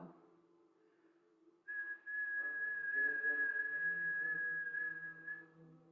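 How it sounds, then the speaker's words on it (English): Long whistling breath through the mouth during deep Kundalini kriya breathing: a steady, sustained whistle tone runs several seconds after a quieter opening, close and fairly loud. "Do long, deep breathing through your mouth, with a whistle on both the inhale and the exhale."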